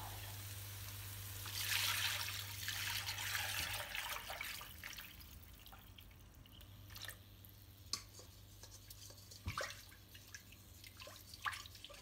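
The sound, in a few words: pouring water into a pot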